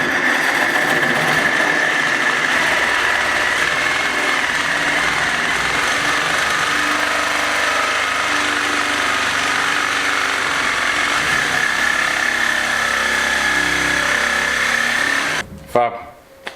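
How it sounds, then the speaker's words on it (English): A reciprocating saw cuts along a clamped piece of steel during a stone wall repair, a loud continuous buzzing rasp that runs steadily before cutting off near the end. "I'm just going to use for my edge and just run down with the reciprocating saw."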